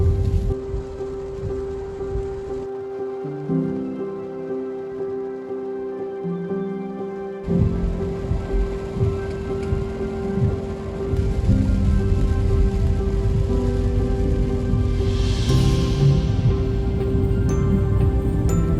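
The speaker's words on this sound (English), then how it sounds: "navigated the stressful drive through torrential rain" Torrential rain at Milford Sound drums steadily for the whole stretch, broad and continuous with no voices, briefly quieter in the middle before swelling heavier again toward the end.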